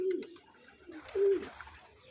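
A pigeon coos twice, close and clear: one short call, then a longer one after a pause, with faint background noise between.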